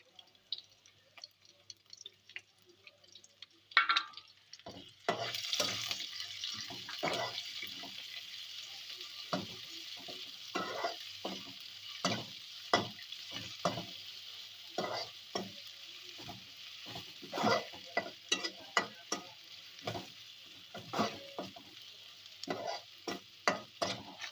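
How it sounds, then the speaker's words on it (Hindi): Chicken pulao masala with chopped green chillies frying in a pot, stirred with repeated scraping clinks over a steady sizzle that grows after the first few seconds, close and continuous. "अच्छी तरह इसको हिला लेंगे ताकि जो है वो मसाला नीचे ना लगे और जले नहीं।"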